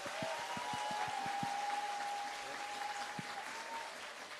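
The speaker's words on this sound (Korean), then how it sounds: "여러분 큰 박수로 격려와 지지를 부탁드립니다" Audience applause at a presidential candidacy announcement event, a dense, steady wash of clapping from a large crowd lasting throughout, heard at a moderate distance with a few sharp individual claps near the start.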